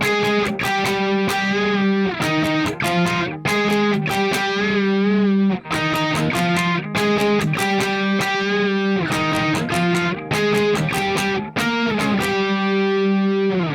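A distorted electric guitar plays the lead part of a song, loud and continuous, with clipped, driven notes in a repeating melodic phrase over about fourteen seconds. No one speaks.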